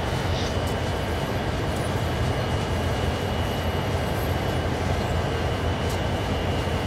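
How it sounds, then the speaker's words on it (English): An old diesel locomotive in Train Sim World 2 on the Clinchfield mountain line runs with a steady, loud engine rumble and rolling rail noise, unbroken for seven seconds with no talking. "This old engine, though, it kind of bops around going through the mountains and gives you a good feel."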